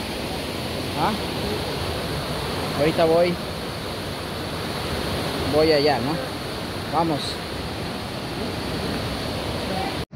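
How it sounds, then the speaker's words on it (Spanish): The fast-flowing Anzú River in Ecuador rushes in a steady, loud broadband roar close by, with people speaking Spanish briefly over the water. "Pero se lo ve correntoso este río."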